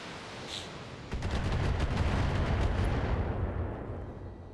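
Mech weapons in the BattleTech video game opening fire on enemy turrets, a loud sustained barrage of rapid booming shots and rumbling blasts that starts abruptly and fades out toward the end.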